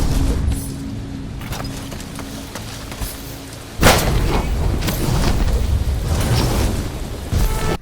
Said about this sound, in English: Every time you use it, it sounds like a lightning strike.